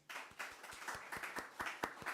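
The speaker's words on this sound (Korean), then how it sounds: "여러분 박수 한번 하겠습니다." A church congregation claps in a quick, even rhythm, roughly a dozen sharp hand claps in about two seconds, fairly faint in the room.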